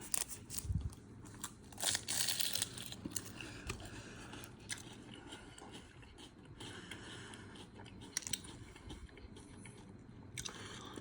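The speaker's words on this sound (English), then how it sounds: "You can hear it, good crunch." Crisp bites into a Sicilian bakery lobster tail pastry filled with vanilla cream and dusted with powdered sugar, a sharp crunch near the start followed by softer chewing and crackling, close and fairly quiet, with no talk.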